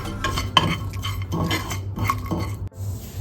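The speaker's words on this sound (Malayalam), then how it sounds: "മസാല നല്ലപോലെ ഒന്ന് ഇളക്കി കൊടുക്കാം" A spoon scrapes and clinks against a pan while stirring masala with turmeric and Kashmiri chilli powder for a spicy green peas curry, several close, brisk strokes with no voices.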